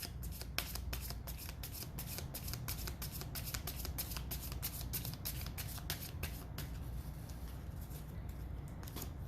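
Continuous close riffling and shuffling of an Island Oracle card deck, dense papery flutters and snaps running steadily throughout with no talk.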